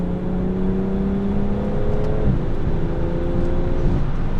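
BMW with an MG Flasher Stage 2 tune accelerating hard in fifth gear, heard from inside with windows closed, a loud steady engine drone climbing in pitch, with a brief dip partway through.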